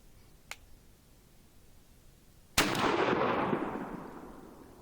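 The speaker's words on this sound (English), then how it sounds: "So this is the first shot at 25 yards to 20 gauge." A Remington 870 20 gauge shotgun with an extra full choke fires a single 3-inch Verdict turkey shell outdoors. The blast is sharp and loud and rolls off in a long fading echo, preceded by a faint click.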